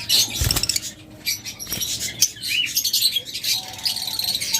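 A pair of yellow-collared lovebirds chirps close by in a busy, overlapping stream of shrill, rapid tweets and chatter, with a few soft thumps and scratches from inside the cage.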